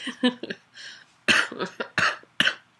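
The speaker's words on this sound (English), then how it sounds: "I can't make myself laugh because otherwise I cough." A series of harsh, close coughs in quick bursts, the first few lighter and the last several louder and chesty, with no talking.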